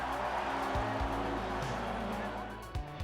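Touring cars race at Silverstone Classic with a continuous engine roar that rises and falls as gears shift, heard at a distance under faint crowd noise.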